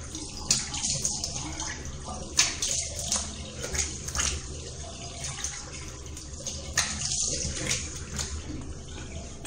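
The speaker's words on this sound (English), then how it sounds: "We'll just apply some cold water on my face to close the pores" Cold water is splashed onto a face over a running tap, giving irregular splashes and gushes against a steady flow, near and moderately loud.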